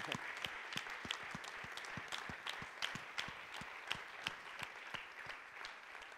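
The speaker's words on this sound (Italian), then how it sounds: "Un applauso allora" Audience applause at an anniversary event, fairly soft but steady crowd clapping with distinct individual claps standing out in a loose, continuous patter.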